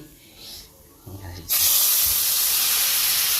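Cardamom and cinnamon hit a hot frying pan with a sudden loud sizzle that bursts in and holds as a steady bright hiss, after a few soft clinks and movements.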